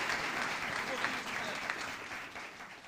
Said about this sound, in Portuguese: Cadê as palmas?